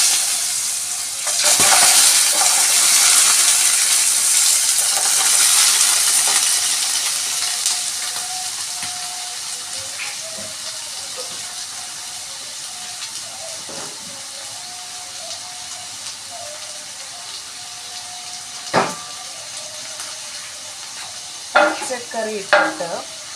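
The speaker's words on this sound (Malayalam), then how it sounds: "പച്ചക്കറി ഇട്ടിട്ട് നല്ല രീതിയിൽ വഴറ്റണം കേട്ടോ" Vegetables sautéing in a pan after mustard seed tempering give a steady, fairly loud sizzle that eases off over time, with occasional stirring scrapes and a few sharp clinks near the end.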